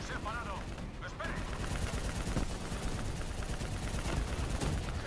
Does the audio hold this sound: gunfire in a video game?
yes